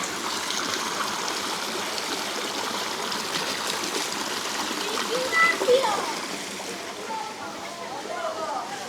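Water running and splashing from a drinking fountain in old Smyrna, Izmir, a continuous close trickling rush with a few brief splashes, while a person talks over it.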